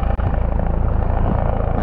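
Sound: helicopter flying over bike park

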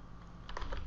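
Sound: typing a keyword on a computer keyboard

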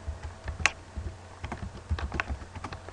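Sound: typing a folder name on a computer keyboard

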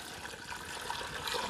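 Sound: pouring warm homemade chicken broth

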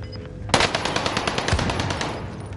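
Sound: gunfire in the video game Call of Duty: Warzone

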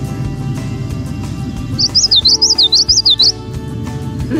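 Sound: common yellowthroat call, witchity witchity

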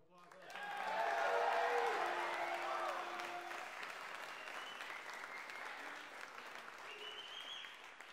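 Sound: audience applause at a recital

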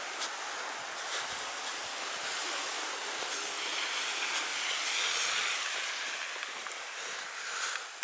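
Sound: strong wind blowing in snowy street

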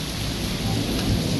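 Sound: heavy rain

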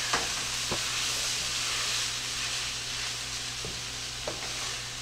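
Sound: stirring chili gravy mixture in a pan

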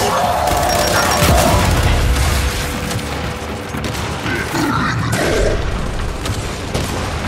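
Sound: fragmentation grenade explosion in video game Gears 5

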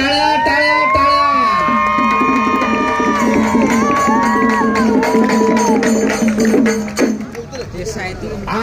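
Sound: wrestling crowd clapping and cheering

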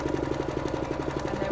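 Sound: sewing machine sewing a long fabric layer

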